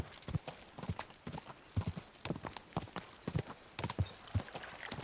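Horse hooves clip-clop in an irregular walking rhythm of crisp, close knocks on the ground inside the medieval game Kingdom Come: Deliverance II, with a faint murmur of background ambience between the hoofbeats.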